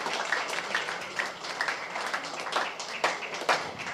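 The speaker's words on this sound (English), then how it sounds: "Give her a good round of applause." An audience at a panel discussion applauds steadily, with distinct claps standing out in a moderately loud, continuous round.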